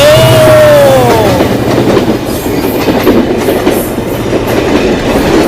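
An express passenger train, the Kapotaksha Express in Rajshahi, Bangladesh, rolls past close by with a loud, steady rumble and rhythmic wheel clatter, a brief squeal at the start.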